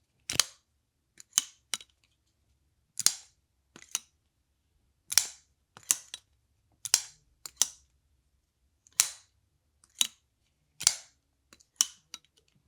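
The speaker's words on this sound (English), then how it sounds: "a knife like this has an almost dull sound to it" Sharp metallic clicks of a QSP Unicorn folding knife blade snapping open and shut, repeated about a dozen times at an uneven pace, close and clear against silence.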